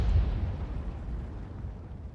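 A booming blast from an M44 artillery shell in a World of Tanks-style video game, one loud low-heavy explosion at the start that rumbles and decays over two seconds.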